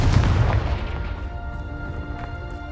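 A Confringo fire spell blast in the video game Hogwarts Legacy, one heavy booming explosion up front that rolls and decays over a couple of seconds, loud and close with no voices.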